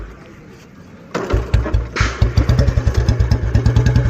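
An old Royal Enfield Bullet motorcycle kicks into life after a quiet start, then settles into a loud, close, steady thumping single-cylinder beat.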